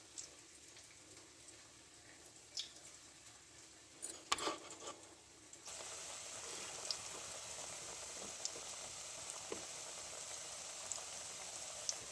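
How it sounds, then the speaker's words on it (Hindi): Aloo cutlets frying in hot ghee, a steady close sizzle with faint bubbling that swells louder and denser partway through after a few brief clatters as more cutlets go in. "ऐसे एक एक करके तो आप आराम से घी के अंदर डालते जाओ"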